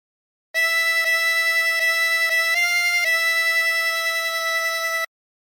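Harmonica playing a phrase of Sloop John B: several repeated reedy notes, a short step up in pitch, then a long held note, loud and close, played alone.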